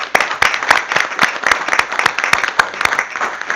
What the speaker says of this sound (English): if we could give you a round of applause.